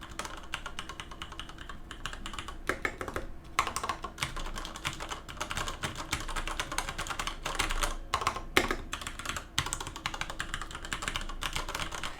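Typing on a Ducky MIYA Pro 65% keyboard with Cherry MX Red switches, a steady stream of fast keystrokes with brief pauses, picked up about three feet from the mic at a moderate level.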